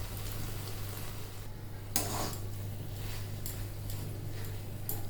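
Thor ghanto, a banana-stem dish with boiled potato, is stirred in a pot with ghee: quiet scraping and shuffling with one sharper metal clink near the middle over a soft, steady background hum.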